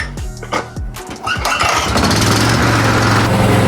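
A Honda HR214 lawn mower engine cranks with a few sputtering pulls, catches on the first attempt and settles into a loud, close, steady running roar.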